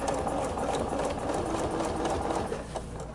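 A sewing machine runs steadily at a close, even pace, stitching a second row over the first on a quilted table runner during ruler work, with a continuous mechanical whir and light rattle.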